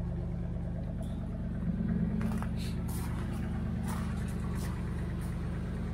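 A Triumph Stag engine runs steadily at a low idle, warming up with its choke out, a constant near rumble with faint clicks and knocks on top.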